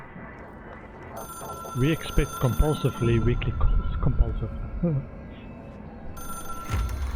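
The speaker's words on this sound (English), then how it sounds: "I can hear the phone ringing" A desk telephone rings inside the office halls of the Federal Bureau of Control in the video game Control, a steady electronic ring tone running through most of the moment while someone talks over it.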